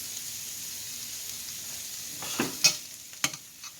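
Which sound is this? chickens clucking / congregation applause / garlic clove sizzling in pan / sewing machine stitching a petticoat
garlic clove sizzling in pan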